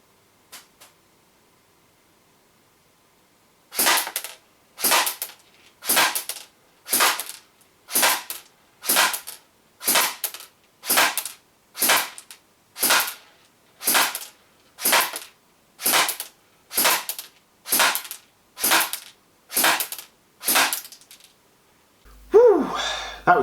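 A Classic Army PX9 airsoft pistol fires .2 BBs, about sixteen sharp, evenly spaced cracking shots in a steady rhythm, close and alone against silence, ending with a brief scrape.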